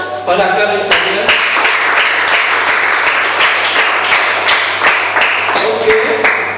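A church congregation claps together, steady rhythmic applause with hand claps at an even pace, accompanied by some voices in the room.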